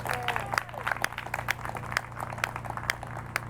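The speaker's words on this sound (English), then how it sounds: "let's just give him a round of applause" Applause from guests at an 83rd birthday celebration, a steady patter of clapping with a few sharper claps standing out over a low constant hum in the room.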